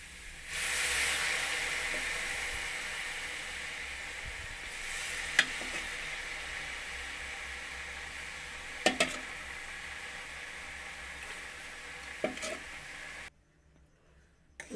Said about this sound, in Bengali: জাল করে রাখা দুধটা দিয়ে আমি এখন নাড়িয়ে নিয়ে